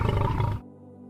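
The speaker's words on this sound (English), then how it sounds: "Are you ready for the lion to roar?" A deep lion roar sound effect booms loud and close for about half a second, then cuts off abruptly to near silence.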